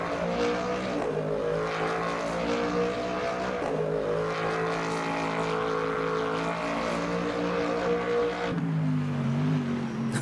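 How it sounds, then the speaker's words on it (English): Mustang race car engine in the racing game Le Mans Ultimate, a loud, steady, harmonic-rich drone with rising and falling pitch through gear changes, easing off near the end as the throttle lifts. "Listen to this engine."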